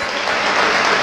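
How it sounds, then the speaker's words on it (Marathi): Audience applause for dignitaries seated on stage at a public programme, a dense steady wash of clapping filling the whole short moment, loud and close with no voices. "एकदा टाळ्या होत्या विचार मंचावर बसलेल्या बाकीच्या मान्यवरांसाठी।"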